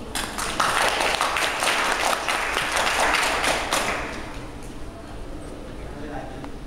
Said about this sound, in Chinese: 让我们掌声欢迎。